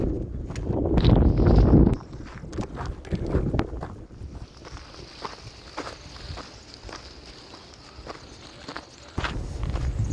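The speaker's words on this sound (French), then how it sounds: "Et ce vent m'énerve." Wind gusting and buffeting a microphone on a mountain climb towards a pass, with heavy low rumble in the first two seconds, then a steadier rushing hiss mixed with crunchy footstep-like noises.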